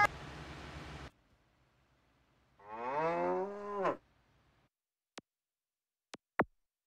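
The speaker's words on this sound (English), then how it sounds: "According to the caller, a herd of cows is causing chaos." Cattle in the video game Autobahn Police Simulator 3: a burst of noise, then a single drawn-out cow moo heard clearly on its own, followed by a few sharp ticks.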